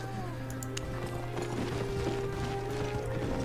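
A riding horse in the video game Albion Online: steady clip-clop hoofbeats in a continuous rhythm, moderately loud, with no neigh clearly standing out.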